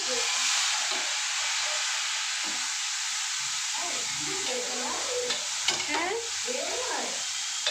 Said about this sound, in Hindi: तो भाई जीरा डालने के बाद अब मैं इसमें टमाटर छोड़ूंगी।